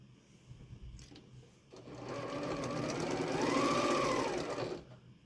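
Sewing machine stitching a flying geese quilt block: a short burst of running stitches, a brief pause, then a longer, steady whirring run that swells and fades out, loud and close with no talking.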